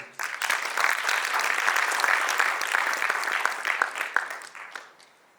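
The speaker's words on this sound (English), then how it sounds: "Let's give them an applause." Audience applause at a UNICEF launch of a Private Sector Forum for Child Rights, a dense burst of clapping from a room of people that swells quickly, holds steady and fades out over about five seconds.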